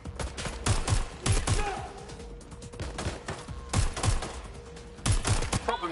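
Gunfire from the Watch Dogs: Legion video game comes in sharp, clustered bursts of shots separated by short pauses, fairly close and punchy over a quieter background.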